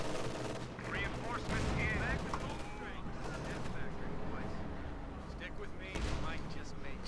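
Gunfire during a Company of Heroes 2 match, bursts of rifle and machine-gun shots crackling through a busy battlefield mix, moderately distant, with a commentator talking over it.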